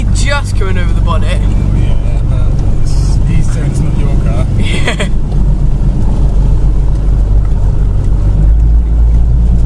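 A car fords deep water in Hertfordshire with the water rising over the bonnet: a steady, loud rushing wash and engine drone fill the whole stretch, with splashy bursts near the start and voices talking over it.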